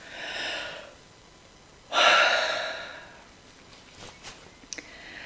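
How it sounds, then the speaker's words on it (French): After rounds of EFT tapping, a person gives two long, breathy exhalations close to the ear, the second louder and more forceful like a stretching yawn, followed by quieter breaths and a couple of small clicks. "On s'étire et on baille."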